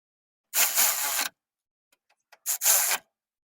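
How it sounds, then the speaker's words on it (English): Tool tightening the AC line clamp and frame bolts during a radiator replacement on a 1994-2001 Acura Integra: two short bursts of mechanical whirring with a few small clicks between, close and fairly loud. "we can tighten both the frame and the clamp to the line"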